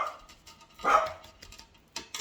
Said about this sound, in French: je crois que mon chien va faire du bruit